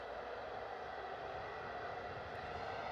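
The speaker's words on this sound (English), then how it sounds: "Ryanair, nice and loud for us on the taxi out to the centre line of runway 27 this evening" A Ryanair jet taxis out toward runway 27 at Bristol Airport on a wet, stormy evening, its engines making a steady, broad roar that holds at an even level throughout with no voices.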